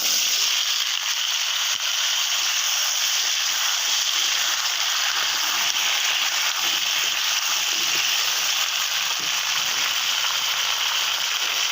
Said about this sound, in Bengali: এই দেখো বন্ধুরা, আলুটা আমি ভেজে নিচ্ছি